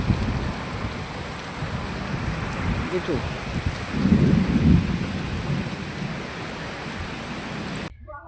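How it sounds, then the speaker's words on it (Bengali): Heavy rain with a thunderstorm, a dense steady roar of rainfall and a deep rumble of thunder swelling near the middle, loud and close, with a voice speaking briefly. "আর মেঘটা না শুধুই ডাকছে।"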